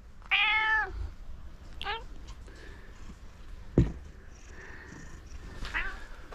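A cat gives a clear, close meow, followed by a few shorter, softer meows over a quiet background with a brief thump.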